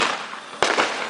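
Fireworks burst with one sharp, loud bang partway through, ringing into a broadband crackle over steady background noise.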